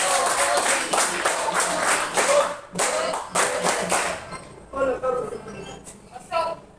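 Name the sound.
class clapping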